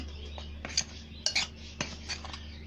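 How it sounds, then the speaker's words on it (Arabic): A utensil stirs a dry fish-coating mix of flour, starch, baking powder, curry and turmeric in a bowl, giving quiet scrapes and a few light clinks against the dish over a low background hum. "نقلب بقى الخلطه بتاعت الدقيق بتاعت السمك اللي عليها النشا وبيكنج باودر وكاري وكركم"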